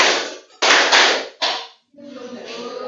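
A class of seventh-grade students claps in unison in a rhythmic clap game during a Qur'an and Hadith lesson, three sharp loud group bursts followed by a softer stretch with voices.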